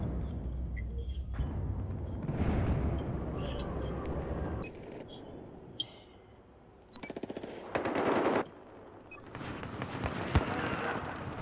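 Gunfire in the video game Battlefield 4: bursts of rapid automatic fire start and stop abruptly, with sharp single cracks between them, mixed with game sounds and a voice at times.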